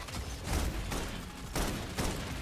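Gunfire in the video game Love & Deepspace comes as several dense, heavy bursts of suppression fire, loud and close, with no talking.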